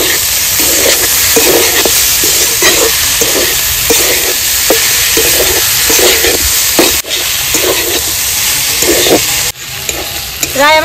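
Fenugreek greens fry in a pan with potato, eggplant, onion and garlic, a loud close sizzle broken by steady rhythmic scraping strokes of a spatula stirring, no talk.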